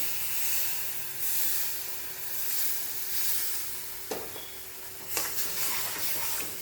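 Milk poured slowly into pan-roasted rice and jaggery for kheer, giving a steady soft sizzle and hiss with a couple of brief sharper crackles toward the end, close up and alone without talk.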